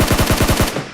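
Rapid shotgun fire in the mobile battle royale game PUBG Mobile, about seven loud blasts in quick even succession, close and punchy, with no talk over it.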